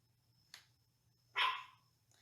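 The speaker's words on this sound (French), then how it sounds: "Désolée si vous entendez mon chien. Elle jappe au travers de la porte." A pet dog barks from behind a closed door in a quiet home, two short muffled barks, the second louder and longer, heard alone.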